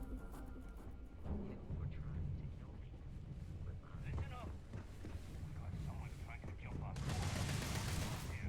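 Gunfire in the Starfield video game, set in a lower-gravity interior, crackles as a continuous loud burst of shots with a heavier roar near the end, mixed with voices and game sounds.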